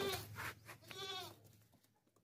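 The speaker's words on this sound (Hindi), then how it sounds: "ये बकरा देखें सर, बहुत ही ज़बरदस्त कुर्बानी का बकरा है" A sacrificial goat at a livestock market bleats twice up close, a harsh wavering cry followed by a longer quavering one, then fades into quiet background.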